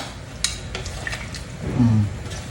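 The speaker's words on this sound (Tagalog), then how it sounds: "Haluin na ulit natin." Chicken pastel, or pininyahang manok, with hotdog being stirred in a cooking pot, a simmering bubbling sizzle with a few light clicks and scrapes of a spoon against the pot, close and with no talk.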